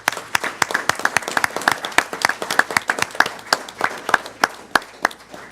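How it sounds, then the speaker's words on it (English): A council meeting audience claps in a sparse, uneven patter of individual hand claps, fairly close and clear, with no talking over it. "I didn't want to talk over the clapping"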